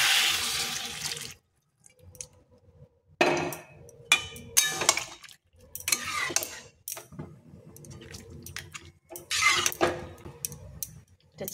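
Hot water is poured into a cooking pot of potatoes already fried with spices, giving a short splashing rush followed by scattered clinks and knocks of utensils against the pot, close by with no talk.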